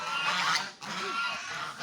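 Domestic waterfowl at a household lunch gathering in Bangladesh, a duck giving a couple of nasal honking calls close by, broken by a short pause, with no talking over it.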